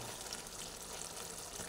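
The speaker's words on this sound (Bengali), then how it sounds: "একসঙ্গে ভালো করে নাড়াচাড়া করে কষিয়ে নিচ্ছি" Rice, potato and cucumber sauté in a pan with a soft, steady sizzle, fairly quiet and continuous, with faint stirring.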